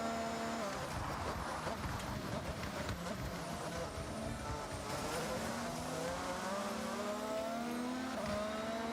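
AMG cars race in Forza Horizon, the game audio carrying a continuous engine drone with shifting revs and occasional tire squeal, fairly quiet and steady throughout.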